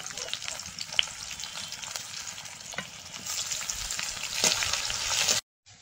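Chopped onion with bay leaf frying in a pan for a Bengali fish curry, a steady close sizzle with occasional stirring scrapes that grows louder before cutting off abruptly at the end.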